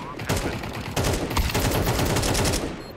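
Rapid gunfire in Counter-Strike 2 on the Mirage map, loud, close bursts of shots coming in quick succession over about three seconds.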